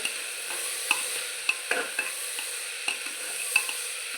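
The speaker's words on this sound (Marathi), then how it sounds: "पावटा शेंगदाणे मी धुवून घेतले आहेत हे आपल्याला टाकून एक मिनिटभर परतून घ्यायचं आहे" Pavta beans and peanuts stir-fried in a pan for masala rice: a soft, steady sizzle with sharp spatula scrapes and clicks every half second or so, close and alone.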